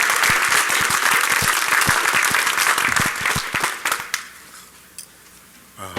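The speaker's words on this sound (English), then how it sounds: "we'll all give them a round of applause ourselves because they were great to work with" An audience at a DEF CON hacker conference talk breaks into loud, dense applause that fills the room, then thins out into scattered claps and fades within seconds.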